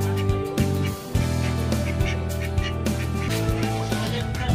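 Ducks at a market pen keep up a loud, dense chorus of overlapping quacks and squawks nearby, steady throughout with a brief dip.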